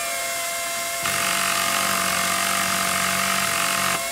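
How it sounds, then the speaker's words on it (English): A handheld power tool in the video game Battlefield: Bad Company whines on after a second of steady background noise, running loud and continuous for about three seconds before cutting off. "That's a power tool you've got there."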